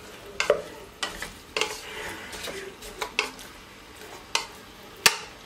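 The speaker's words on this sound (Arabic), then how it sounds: "غادي كما قلت لكم يتقلى شويه اللحم" Sheep's head meat fries in a pot for couscous, a continuous sizzle broken by repeated clanks and scrapes of a utensil stirring against the metal, several sharp knocks spaced through it, close and fairly loud.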